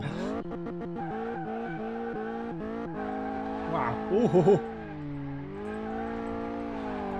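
Subaru BRZ in the game Car Mechanic Simulator 2018 accelerating hard through gear changes with loud tire squeal and skidding, engine pitch climbing and dropping, while a person exclaims over it.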